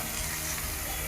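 Five or six green chilies sizzle steadily in hot oil in a pan, a dense continuous frying hiss that holds close and even throughout with no talking.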